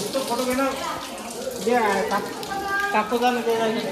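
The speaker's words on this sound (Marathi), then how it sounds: "पाणी येऊन राहिलं" Water flows and splashes steadily in the background while a person talks over it.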